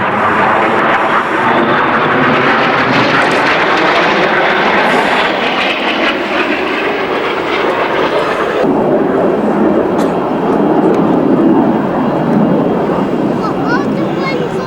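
A synchro pair of Hawker Hunter jets crosses at an airshow, closing at about 800 mph. Their loud, continuous roar fills the whole stretch and shifts abruptly partway through as they pass, while a commentator speaks over a public address system.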